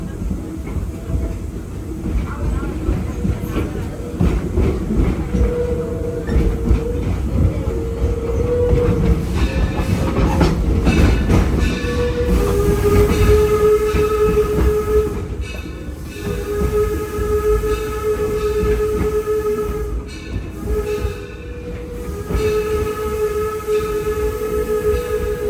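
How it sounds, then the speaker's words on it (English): A steam locomotive on the Greenfield Village Railroad blows down its boiler, giving a loud, steady roaring hiss that lasts throughout. Rail and mechanical noise sits beneath it, along with a few sustained whistle-like tones. "That's what we call a blowdown. And what they're trying to do is to blow out the impurities and scales that tend to build up inside the boiler of the locomotive."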